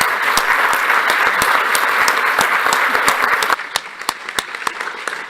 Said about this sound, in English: Let's give these speakers another round of applause.